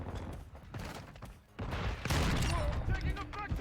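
Bursts of gunfire in Call of Duty Modern Warfare II during a Shoot House match, loud and dense in the second half, with voices talking over the shooting.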